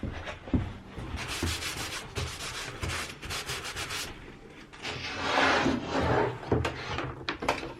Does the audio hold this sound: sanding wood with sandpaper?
yes